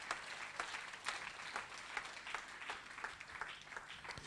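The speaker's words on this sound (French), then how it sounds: "Applaudissez un peu le Seigneur Jésus" A church congregation applauds in praise, steady rhythmic clapping heard faintly and at a distance, with a few louder individual claps standing out.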